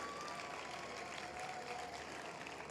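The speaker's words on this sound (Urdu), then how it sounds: "مجھے بھرپور تالیاں تم سے چاہیے کیونکہ تم میزبان ہو" An audience applauding at an Urdu literary conference in Karachi, a dense, even wash of clapping from a large crowd heard at a distance, steady throughout.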